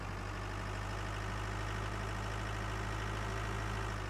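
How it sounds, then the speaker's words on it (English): Tractor engine from Farming Simulator 19, straining while pulling a tank uphill, runs as a steady low continuous drone with constant loudness and no talk. "this tractor does not have enough power to pull it up that hill"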